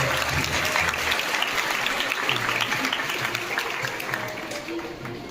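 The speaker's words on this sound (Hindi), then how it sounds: "तालियों की गड़गड़ाहट" Sustained applause from a crowd at an honoring ceremony, steady and fairly loud throughout, thinning slightly toward the end with some voices mixed in underneath.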